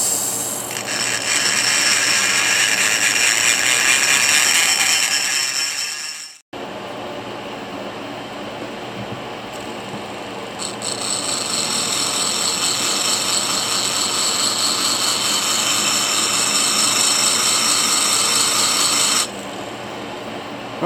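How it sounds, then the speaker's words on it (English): Small grinder working the rock matrix around a fossil crab from Washington, a steady loud abrasive whine that runs in two long stretches broken by a brief stop near the middle. "So I put on a smaller grinder"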